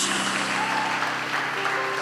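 A church congregation at a sermon claps for Jesus, with a brief, dense, even wash of applause from many people filling the whole moment.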